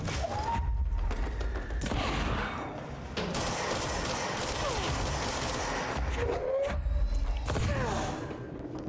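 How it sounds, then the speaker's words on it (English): Rapid gunfire crackles and bursts continuously in the video game Control as an enemy shoots back, dense and sustained with mechanical clatter throughout. "that thing seems to be shooting back"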